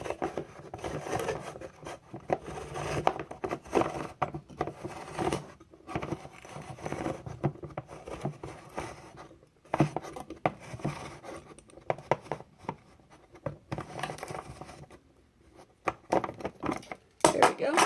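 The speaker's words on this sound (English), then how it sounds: "I'm going to open up the rest of the can and get into our cut green beans" A can of cut green beans is worked open with a manual can opener, giving irregular scraping and clicking bursts with short pauses between them, close up and fairly quiet.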